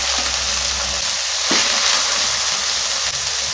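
Chopped tomatoes hit hot oil in a frying pan while cooking a Bengali soybean and egg curry, giving a loud, continuous hiss and crackle with a brief sharper burst as they settle, with no talking.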